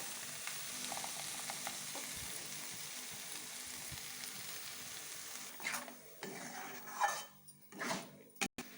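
Spinach paste fries in a pan with a steady, moderate sizzle, stirred now and then with the clatter of a utensil against the pan toward the end.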